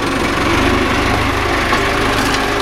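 A tractor engine runs steadily on a farm, a loud, close, continuous mechanical drone with a rattling, vibrating texture and no speech.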